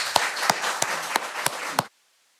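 Audience applause for a panel at a May Faire event, a wash of clapping with six loud, evenly spaced claps standing out close by, stopping abruptly after about two seconds.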